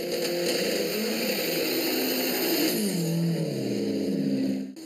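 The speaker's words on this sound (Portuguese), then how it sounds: "O arrancadão está na tela. O ronco do motor." A loud drag racing car engine roars and revs, its pitch climbing as it accelerates hard, then cuts off abruptly at the end.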